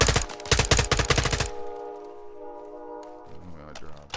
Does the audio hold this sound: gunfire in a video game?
yes